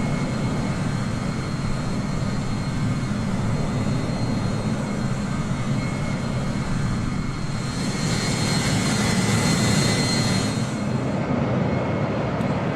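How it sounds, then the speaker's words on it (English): SAS DC-9-10 jet airliner cruising in Microsoft Flight Simulator 2020, a constant engine drone and cabin rumble with a brighter hiss swelling in the later seconds. "the little DC-9-10 cruising along beautifully at the moment"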